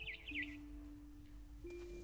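Mama bird in the video game What Remains of Edith Finch chirping in a quick run of high tweets at the start, then falling silent while a steady low in-game tone hums underneath.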